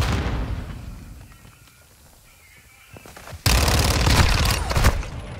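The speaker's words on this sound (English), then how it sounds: "Throwing grenade!" A grenade blast in the shooter game Modern Warfare II: a quiet lull, then a sudden loud explosion that bursts in and rumbles with crackling debris for a couple of seconds, close and dominant.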